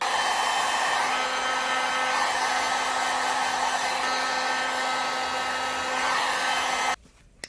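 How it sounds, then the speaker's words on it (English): Heat gun on its low setting blowing steadily at close range, a continuous loud airy whoosh with a faint whine that holds for about seven seconds before cutting off abruptly. "So I'm gonna start with low heat, or the low setting of the heat gun."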